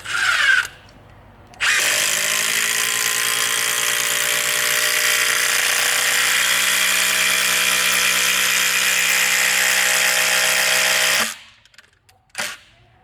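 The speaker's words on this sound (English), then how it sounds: "Make sure you hold everything in place and then just drive that screw in." A power drill drives a screw into timber for a garden bed, a steady, loud whir held for about ten seconds, with a short burst before it and a brief final spin after it stops.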